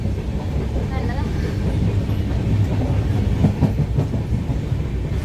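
A train rumbles steadily along the rails, a low continuous rolling drone with faint rhythmic clatter, heard from inside a carriage.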